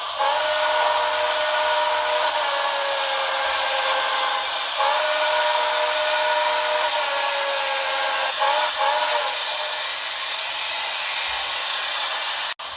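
A long, steady steam whistle from a Broadway Limited Paragon 4 model of an ATSF 4000 class locomotive sounds loud and near, its rich harmonic tone holding for many seconds before cutting off abruptly.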